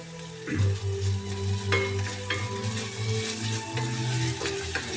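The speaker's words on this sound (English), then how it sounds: "Just give it a quick stir around, and then I'm just going to let it cook for a minute" Garlic and chili frying with onions in a pan, stirred with a utensil: steady close sizzle with scraping, clattering stir strokes throughout, no talking.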